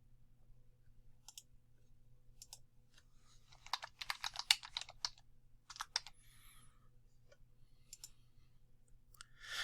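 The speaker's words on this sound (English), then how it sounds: "Type Channel Blur in the search box in the Effects and Presets panel." Computer keyboard typing in short bursts of clicks with pauses, close and fairly quiet, a search entry in Adobe After Effects, with no talking.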